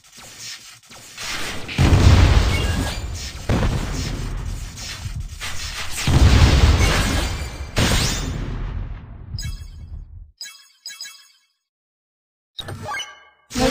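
A burning missile explodes in the Winwing video game with a series of heavy booming blasts and metallic clangs at irregular intervals, loud and close, then breaks off into near silence with a few clipped bursts at the end.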